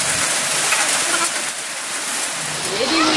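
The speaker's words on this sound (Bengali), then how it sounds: "সেই বৃষ্টি হচ্ছে, খুব বৃষ্টি হচ্ছে বাইরে, আওয়াজ হয়তো আসছিলাম" Heavy rain pours outside a home kitchen, giving a dense, steady hiss of falling water with no clear breaks, fairly loud and close.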